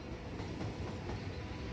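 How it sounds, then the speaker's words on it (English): A passenger train in the city-building game Cities: Skylines rumbles steadily with dense rolling rail noise, continuous and fairly loud with no talk. "We also put in a passenger train"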